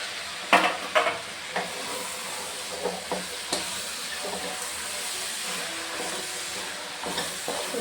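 Mixed vegetables sauté in a pan for a South Indian vegetable kuruma, a steady sizzle and hiss broken by a few sharp spoon-against-pan clinks and stirring scrapes, close by and with no talking.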